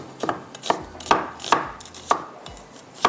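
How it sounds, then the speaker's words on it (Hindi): A knife chops a small onion finely on a cutting board, sharp taps landing in a steady rhythm about twice a second, close and clear with no voices. "यहाँ पर मुझे एक छोटी सी प्याज को बिल्कुल बारीक चॉप करते हैं"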